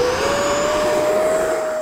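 An E-flite Viper 70mm EDF radio-controlled jet takes off, its electric ducted fan giving a loud, steady whine that rises slowly in pitch over a broad rushing roar, continuous and close throughout.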